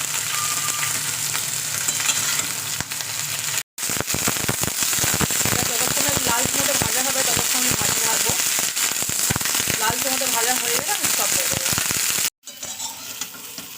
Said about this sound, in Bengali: গ্যাসটা জোরে দিয়ে একটু ভাজতে হবে